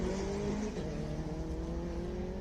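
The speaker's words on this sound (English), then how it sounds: "Honda VTEC." Honda VTEC car racing at the Simola Hillclimb, a steady high engine drone held near and loud, faintly fading as it passes.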